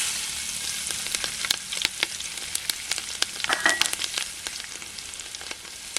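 Chopped green chillies crackle and sizzle in hot oil with mustard seeds, cumin and asafoetida, a steady close frying hiss broken by frequent sharp pops and spits, with no voices.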